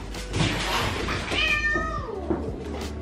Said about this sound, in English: Now let's play the cat.